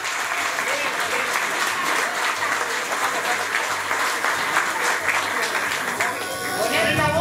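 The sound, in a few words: loud applause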